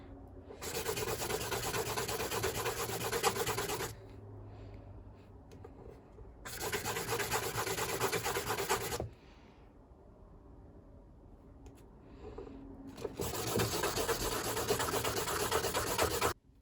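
Silver buoy earrings sanded by hand, with three long bursts of steady, loud broadband rasping separated by quieter gaps holding only low background noise.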